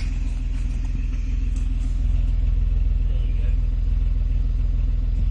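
A Nissan Skyline engine idles with a deep, steady exhaust rumble, low and throbbing, continuous and close for the whole stretch.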